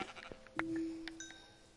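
A single sheep bleats clearly in Minecraft, a short wavering cry, with faint game sounds and clicks around it.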